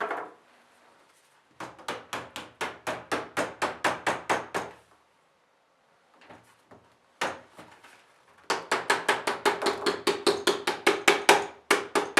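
Rapid bursts of light metallic small-hammer taps on sheet metal, shaping a beehive roof corner, about four or five per second, in several runs separated by pauses, close and sharp.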